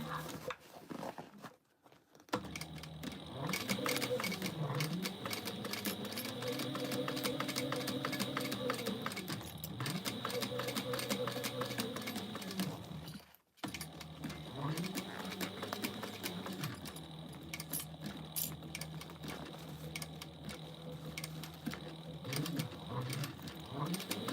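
Sewing machine stitching and backstitching on an Andie sling bag, running in long motor bursts with rhythmic needle clatter, brief pauses between runs, close, with a voice talking at times.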